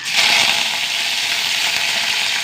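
Mustard seeds and two dried red chillies crackle and sizzle in hot oil, a loud, dense, continuous frying hiss that starts sharply and holds steady up close.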